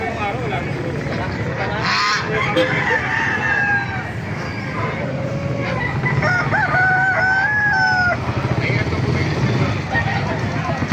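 Brahma roosters crow and fowl cluck in a noisy poultry area at a market, with someone talking over the birds throughout.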